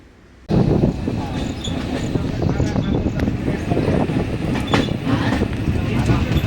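A train rounds a long curve through high hills: a continuous heavy rumble with scattered rattles and wind buffeting begins abruptly after a brief quiet start and carries on steadily.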